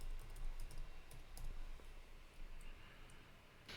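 Fingers tap a computer keyboard in a quiet room, giving a faint, irregular run of soft keystrokes and clicks over low background hiss.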